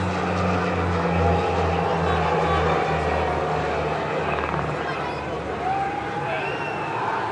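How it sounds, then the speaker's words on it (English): A CASA transport aircraft of the French Air Force flies over the Champ de Mars during a ceremonial display, making a loud, steady propeller drone with a low, throbbing hum that holds throughout. "approaching from the horizon the Casa Transport aircraft from the French Air Arm, flying over the Champ de Mars"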